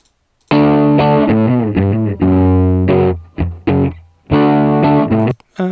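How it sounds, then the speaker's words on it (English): Heavily distorted electric guitar, the distortion changing over time, plays several sustained, buzzing notes and chords, with short pauses between phrases, loud and close. "let's try to change the amount of distortion over time."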